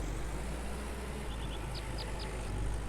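A tractor engine idles in the Farmer's Dynasty farming video game, a constant low rumble throughout, with a few faint high chirps partway through and no talk.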